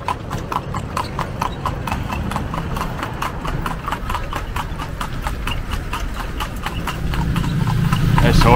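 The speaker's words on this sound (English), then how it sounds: "This horse is working for his feed today." A horse pulling a cart on a road in Vigan City, Philippines, its hooves clip-clopping in a steady, even rhythm close by, with a low engine-like rumble building underneath toward the end.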